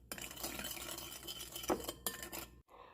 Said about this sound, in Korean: 설탕 2스푼, 마늘 반 스푼을 넣고 골고루 섞어줍니다